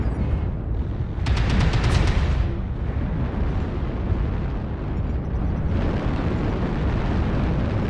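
A destroyed mech explodes in the MechWarrior Online video game, a heavy deep rumbling blast with crackling bursts early on, then a sustained loud low roar of battle noise filling the rest of the stretch.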